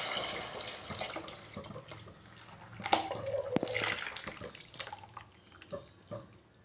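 Sautéed mixture for a dried fish curry poured into water: wet splashing and dripping with a few clatters and knocks from the pan, moderately close, with no talk.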